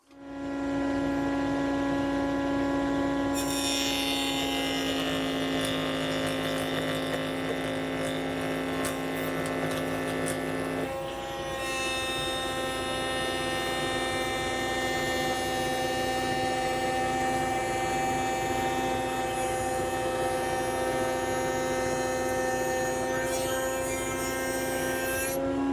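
Router fitted with a carbide insert flush trim bit trimming wood, running at reduced speed; a loud, steady high whine with a strong tonal hum sustained for the whole stretch, its pitch shifting slightly as the cut begins and again midway.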